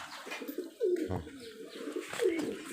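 A Giribaj high-flyer pigeon from Rajshahi cooing up close, soft throaty coos repeating a few times with faint rustling around them.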